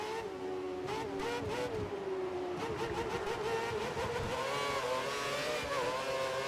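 Formula 1 cars in the F1 2013 racing game at the China circuit drive and overtake, engines whining and rising and falling in pitch as cars pass close by, loud and continuous throughout.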